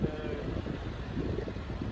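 Wind gusts blow against a cyclist riding past cornfields on rough roads, making a low, buffeting rumble of wind on the microphone that stays steady throughout, with no clear talk.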